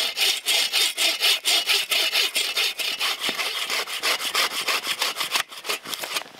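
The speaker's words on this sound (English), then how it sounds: "this is the most high-functioning, efficient, compactable buck saw that I've seen" A compact Agua Canyon Boreal 21 buck saw cuts through wood outdoors in a steady back-and-forth rhythm of rasping strokes, loud and close, with a short pause near the end.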